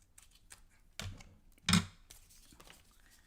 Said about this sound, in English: So I'm going to cut this here.